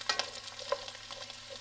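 Vegetables for pasta e fagioli fry in a pan with a steady, close sizzle broken by a few light stirring clicks.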